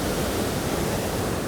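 Steady, loud rush of water pouring strongly past and through a culvert, heard during a springtime gravel-bike ride; a continuous broadband roar with no pauses and no voices.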